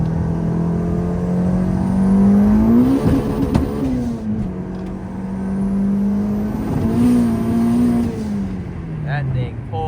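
A big-turbo Volkswagen GLI pulls hard in third gear, its engine note rising in pitch, dropping at a shift, then climbing again close inside the cabin, with people talking over it.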